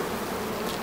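Honey bees inside a warm hive make a dense, continuous buzzing drone, close and steady with no pauses or voices.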